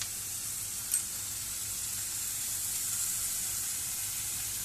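A steady, bright sizzle of oyster mushrooms frying with onions and peppers in a hot pan continues throughout, with a faint clink near the start.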